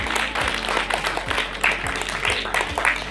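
Steady audience applause fills a student felicitation ceremony for 10th and 12th graders as guests are welcomed with bouquets, dense clapping running throughout with a few brighter claps standing out and a faint voice beneath.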